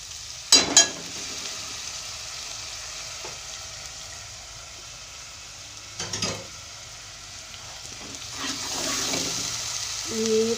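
Spices and garlic-ginger paste fry with softened onion in a pan, giving a steady, close sizzle with a few louder stirring scrapes and clatters and no talking.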